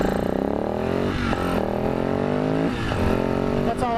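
A supermoto motorcycle engine revs and accelerates close by, the pitch climbing through several gear-like rises and dropping between them, loud and continuous with no talk.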